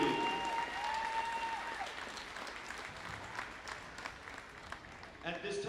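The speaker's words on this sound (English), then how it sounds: "Please give them all one more round of applause." Applause from a crowd at a girls' basketball game, dense steady clapping filling the gym for several seconds, with a raised voice and whistle-like tones over it early on.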